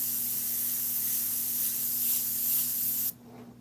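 Airbrush spraying Createx paint onto synthetic paper: a steady, close, continuous hiss of compressed air and paint mist that holds for about three seconds, then cuts off abruptly, leaving near silence.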